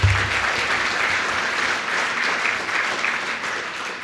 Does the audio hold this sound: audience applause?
yes